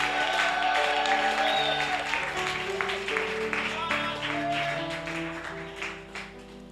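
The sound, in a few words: congregation applauding and acclaiming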